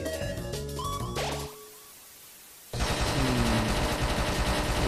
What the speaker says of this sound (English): the guns and the bullets